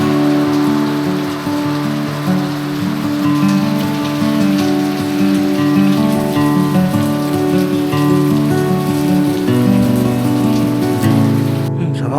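Heavy rain pours down steadily on a roadside during a motorcycle ride in Rizal, a dense, continuous loud wash of drops drumming on surfaces for the whole stretch, with a low background hum and no talking.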